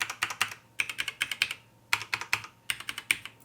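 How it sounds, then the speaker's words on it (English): Key presses on mechanical keyboards fitted with red linear switches, Cherry MX on a Corsair K65 and Gateron on a Womier K66, in quick bursts of clacks separated by short pauses, close and clear with no talking. "Now let's press again the same keys on each of the keyboard"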